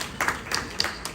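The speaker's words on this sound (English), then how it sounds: "may I request everybody to give a very big round of applause for the organizers" Audience applause for the organizers at a business summit, a short burst of clapping with bursts of hand claps across the crowd, moderately loud.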